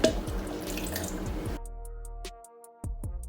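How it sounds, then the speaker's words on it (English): Water pours from a tap onto dried fish in a sink or plate for washing, a steady splashing stream for about a second and a half, then a pause and a short resumed trickle and drips. "So right now I'm going to add some water into"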